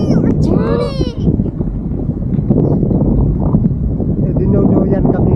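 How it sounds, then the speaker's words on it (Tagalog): Strong wind buffets the microphone on a boat ride at sea off Boracay, a loud, continuous roar beneath children's and adults' voices talking throughout. "Malakas ang hangin."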